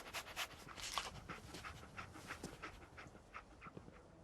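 Dogmeat, the dog from Fallout 4, panting in quick, rhythmic breaths close by, faint overall with no talk.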